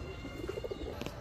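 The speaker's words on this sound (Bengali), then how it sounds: "খুলনার ঐতিহ্যবাহী তুলা একটা মাদি কবুতর" Pigeons coo in a soft, rhythmic run of low, throaty pulses over a steady background hum; among them is a traditional white Khulna female high-flying Giribaz pigeon.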